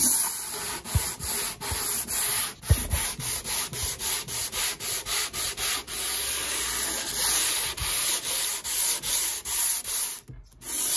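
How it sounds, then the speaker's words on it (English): Light hand sanding of plywood with 100 grit sandpaper after paint stripping, repeated back-and-forth scratchy strokes in a steady rhythm, close and clear with no talk. "Light sanding."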